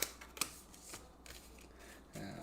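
A deck of playing cards is shuffled by hand during a tabletop card game. Brief riffling bursts and soft papery flutters come close and quiet, and a louder shuffle follows near the end.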